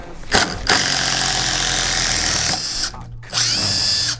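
A Makita impact driver spins a wood drill bit into wood: a short burst, then a long continuous whirring run, a brief pause and another burst, loud and close.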